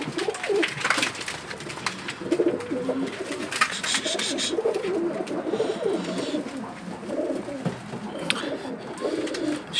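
Pigeons cooing inside a coop, low repeated throaty coos from several birds nearby, overlapping at a steady moderate level, with faint shuffling in the background.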